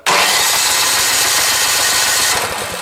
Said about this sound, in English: and now I start this my engine